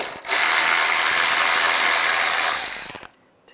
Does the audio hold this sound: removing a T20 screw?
yes